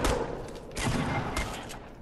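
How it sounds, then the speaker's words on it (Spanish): Rapid gunfire in a video game shootout, a dense volley of shots in quick succession, loud and close, with no talking over it. "Le di 3 tiros a ese cabrón."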